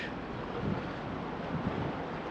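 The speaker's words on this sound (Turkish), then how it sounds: "Fethiye'de sert bir rüzgar var. Soğuk esiyor." Strong, cold gusting wind in Fethiye, Turkey, buffets the microphone, a broad continuous roar with no other sounds standing out.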